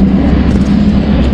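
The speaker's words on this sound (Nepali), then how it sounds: "सो त्यही नै हो मलाई ल्याइदिने प्लेन चाहिँ" A propeller airliner at Pokhara International Airport gives off a loud, steady engine roar with a deep low hum, continuous and close throughout, with no voices.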